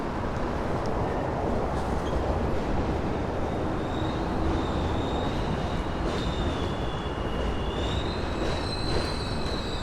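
A New York City subway train in Brooklyn rumbles loudly and steadily throughout, with faint metallic wheel squeals and whines rising above the constant roar.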